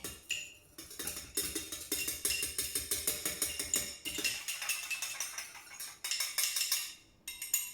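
A utensil stirs a savoury cheesecake mixture of egg in a bowl, making steady rhythmic clinks and scrapes close by that run almost without pause, with no talking.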